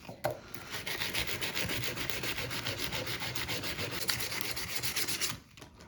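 Hand sanding wood with sandpaper, moving from coarse 120 to fine 240 grit: a steady, close, continuous rasping rub with fast back-and-forth strokes lasting about five seconds, then stopping.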